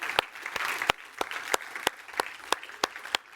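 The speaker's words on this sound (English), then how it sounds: "Round of applause for our panelists." A small audience applauds panelists at an industry conference, with sparse, separate claps at a steady rhythm, fairly faint and brief.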